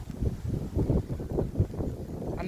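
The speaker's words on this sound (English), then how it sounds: "And as I leave, big gust comes." Big gusts of wind on a very windy day, buffeting the microphone in low rumbling surges that swell and fade repeatedly over a couple of seconds.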